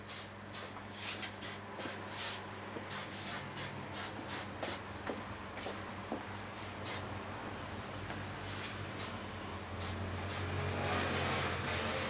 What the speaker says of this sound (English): A soft hairspray, also from Goldwell.